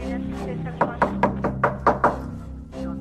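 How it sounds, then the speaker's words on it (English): Police knock on an apartment door: a quick series of about eight firm, close knocks in a steady rhythm, with a brief pause in the middle, over a soft background hum. "When we knocked on the door and there was no answer"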